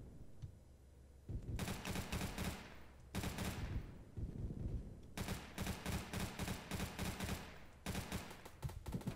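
Sustained bursts of automatic gunfire in the Roblox game, long rattling volleys broken by short pauses, fairly quiet overall and without any talk.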